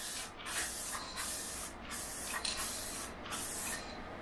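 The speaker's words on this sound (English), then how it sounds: "let's go spray the engine cover" An aerosol spray paint can hisses in a series of short repeated bursts, close by, with brief gaps between each spray, test-spraying against brown paper on a wall before painting an engine cover.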